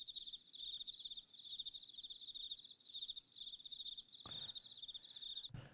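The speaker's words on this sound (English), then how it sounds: "I got crickets too. I love my little sound effects." A digital cricket-chirping sound effect plays alone, rapid pulsing trills repeating in steady bursts at a moderate, close level, with two brief clicks near the end.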